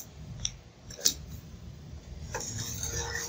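A utensil clinks and scrapes against a pan while milk powder is slowly stirred in over medium heat, with a few sharp metallic taps above a quiet background.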